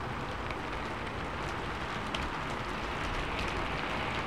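Steady rain from the VRChat game setting of a lonely roadside rest stop, a dense, even patter and hiss that holds constant throughout with no voices.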